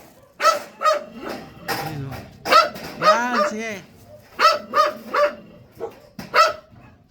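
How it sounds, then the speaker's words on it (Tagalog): A dog barks repeatedly in short, sharp bursts, some close together, with people talking intermittently nearby. "Ingay na aso."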